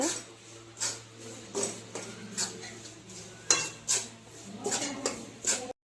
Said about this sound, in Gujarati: ઝલક વાસણ ઘસવા બેઠી છે